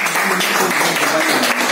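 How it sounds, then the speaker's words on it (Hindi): Hall audience applauding during a motivational speech: a continuous, even wash of many hands clapping, fairly loud and close, with no pauses. "इनके लिए तालियां होनी चाहिए।"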